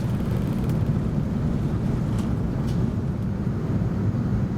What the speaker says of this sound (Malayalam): വിമാനം ആകാശത്തേക്ക് ഉയർന്നു.